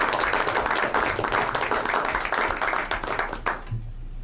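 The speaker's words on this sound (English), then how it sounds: "let's give everybody a round of applause" A round of applause at a school board meeting, dense clapping from a room of people that carries on steadily, then fades out and stops near the end.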